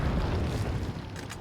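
A rocket is shot down and explodes in Resident Evil 4, a loud, dense rumbling blast that fills the short moment with no speech.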